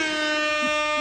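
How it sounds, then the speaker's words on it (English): A single sustained air horn blares, a loud, steady, brassy tone held for about a second. "Do the air horn."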